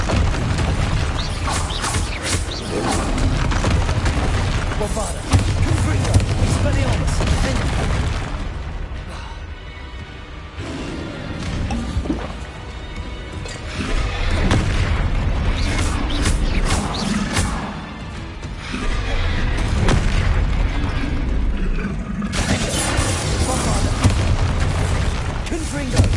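Bombarda and Confringo spell explosions in the video game Hogwarts Legacy on PS5, a dense run of loud booming blasts and crashes layered over game music and effects for nearly the whole stretch, with brief lulls between bursts.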